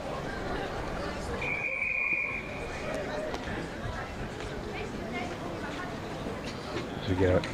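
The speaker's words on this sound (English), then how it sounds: "we get a whistle from the 200 start from the officials" At an England Athletics senior championships track meet, officials blow a single steady whistle at the 200 m start, brief and fairly distant under crowd chatter and stadium noise.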